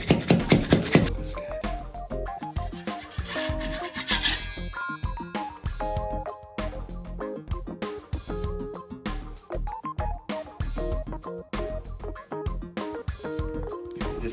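A putty knife handle pushes drywall anchors flush into a wall before DAP Fast Dry spackling, making close, repeated rubbing and scraping strokes in an uneven rhythm throughout.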